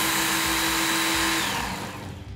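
A Ken Onion belt knife sharpener whirs loudly as a knife blade is worked along the moving belt, a steady high-pitched grinding hum that fades off toward the end, with no voices.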